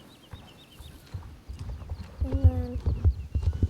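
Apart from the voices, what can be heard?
horse hooves clip-clopping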